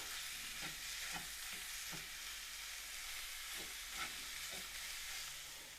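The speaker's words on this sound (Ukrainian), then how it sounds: "Тепер обжаримо разом з цибулею наш фарш." Minced meat with onion frying in a pan gives a continuous quiet sizzle, broken by a few soft scraping stirs at irregular intervals.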